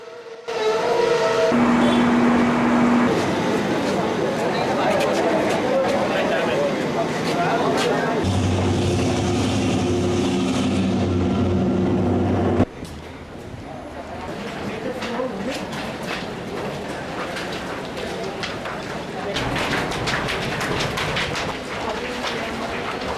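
A train at a railway station near Colombo Fort, bound for Polgahawela: loud rumbling and rolling noise with a steady horn-like tone, easing to quieter station ambience partway through.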